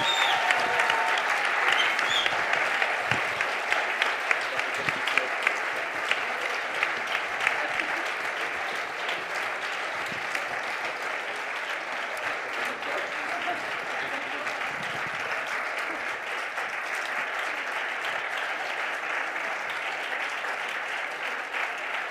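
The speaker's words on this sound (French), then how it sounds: "Voilà pour la photo et les applaudissements du public" Sustained audience applause fills the hall at the EPFL 2024 final of Ma thèse en 180 secondes as finalists take the stage for a photo, a dense steady wash of many hands clapping, loud and continuous throughout.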